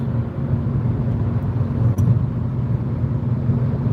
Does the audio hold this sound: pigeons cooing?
no